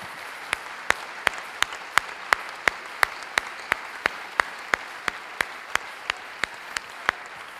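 Rhythmic clapping at a church service acclaiming the Lord, sharp evenly spaced claps roughly three per second, steady and fairly loud over a faint room background.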